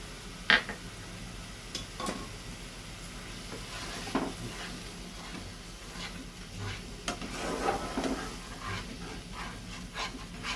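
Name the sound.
stirring spice paste frying in pan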